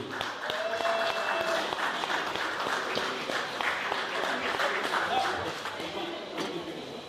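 Steady audience applause fills the whole stretch, a dense crowd clapping at an evening concert in Saint-Ouen-l'Aumône, holding fairly even in level with no voice standing out.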